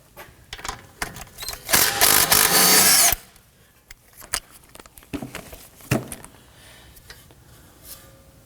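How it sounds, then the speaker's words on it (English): A bolt on a Toyota Camry strut, 2018-2024 model, loosened with a 17mm socket on a power tool, one loud whirring burst of about a second and a half followed by scattered clicks and knocks of handling. "Using a 17mm socket, we're going to go ahead and loosen and remove that"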